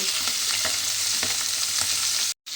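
Tangra fish fry in a pan of hot oil with a steady, close, loud sizzle and crackle, a few faint clinks underneath, cutting out abruptly near the end.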